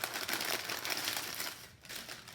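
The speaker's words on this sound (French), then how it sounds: "Et là, je vais le mettre dans un papier parchemin." Parchment paper crinkling and rustling as it is wrapped around a roll of cookie dough, a steady close crackle with a brief lull near the end.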